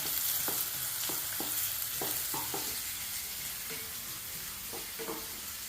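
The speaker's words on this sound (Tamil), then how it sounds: "நல்லா ஆயிலே இது வதங்கணும்." Raw mango sautéing in hot oil for a mango thokku side dish, a constant hissing sizzle with scattered clicks and scrapes of stirring, steady and fairly soft with no voices.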